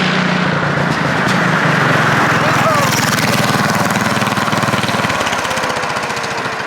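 A half-scale NASCAR mini cup car engine runs loud and close, a steady buzzing drone with rapid firing pulses that holds throughout, easing slightly near the end, with a voice speaking over it.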